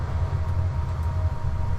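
A passing train on Route 66 gives a continuous deep rumble, fairly close and steady, with no speech on top.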